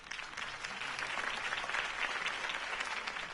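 A crowd applauds steadily throughout a political campaign rally scene in the video game Batman The Telltale Series, a dense, even wash of clapping at moderate distance with no talk over it.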